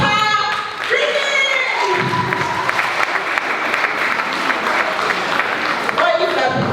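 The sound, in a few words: audience applause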